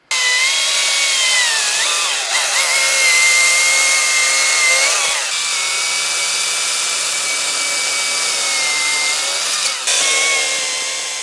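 A Husqvarna 550i XP battery chainsaw whines at high pitch as it cuts through wood, its tone dipping and rising under load, loud and close.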